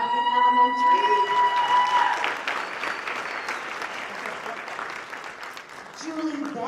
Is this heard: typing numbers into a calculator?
no